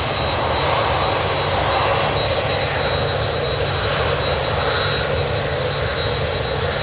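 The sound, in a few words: Ryanair Boeing 737-800 jet departing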